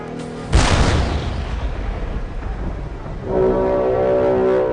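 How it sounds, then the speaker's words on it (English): A single loud cannon blast booms close by, a sharp onset followed by a long rumbling decay, then a sustained tonal drone takes over; no voices. "The cannon was the new must-have battlefield accessory."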